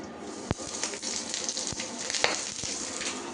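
Food sizzling in a frying pan with a steady hiss, punctuated by several sharp pops and spatters at irregular intervals, close and fairly loud.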